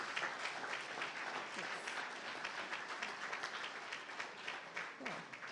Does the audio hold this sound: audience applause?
yes